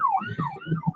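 An ambulance siren wails in a rising and falling tone on a busy road, at moderate volume with low traffic rumble under it.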